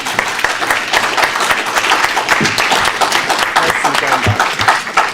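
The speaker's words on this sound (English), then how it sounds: "let's give them a round of applause." Dense, loud applause fills the room for an audience at a candidate forum, a continuous crackle of many hands clapping with a voice talking over it.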